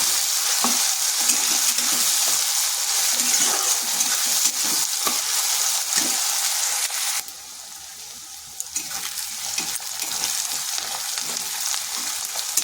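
Chopped onion and garlic frying in a pan for a cabbage dish, a steady close sizzle with occasional stirring scrapes, briefly quieter midway before the hiss returns.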